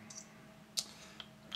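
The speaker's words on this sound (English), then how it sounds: "rear tail click" The rear tail click switch of an Acebeam T20 thrower flashlight gives a few faint, crisp clicks, one slightly stronger than the others, against a quiet background.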